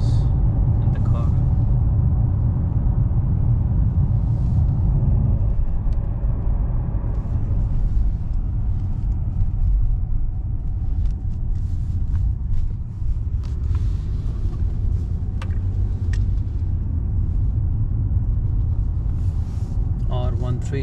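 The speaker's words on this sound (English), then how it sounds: "So you guys can hear any noise in the car." Steady low road rumble inside a car driving on the R132, continuous and fairly loud throughout, with occasional faint clicks and rattles; no one speaks.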